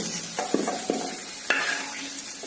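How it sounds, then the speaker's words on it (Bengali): Potatoes seasoned with salt and turmeric frying in a kadai over raised heat, a steady close sizzle punctuated by several sharp spatula scrapes and knocks against the pan, no talk. "আলুটা ভাজা হয়ে গেছে। এবার আমি আলুগুলোকে তুলে নেব।"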